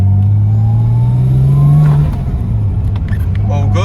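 A Japanese car drives along a wet street, its engine droning loudly and steadily with a low hum that lifts briefly as it accelerates, then settles, with tire and road noise around it.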